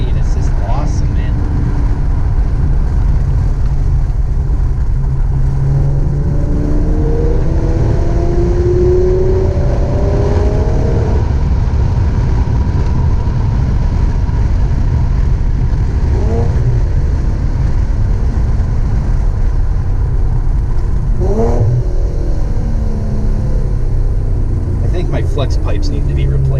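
A heavily modded G37 sedan running E85 fuel, with rattling flex pipes, revs and accelerates in repeated swelling bursts under a constant loud road and cabin roar, close up inside the car.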